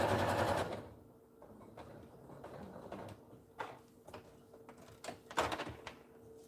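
A sewing machine stitches a quarter-inch seam or topstitch in a home workspace, starting loud then running in uneven softer bursts with clicks and thumps, no talking.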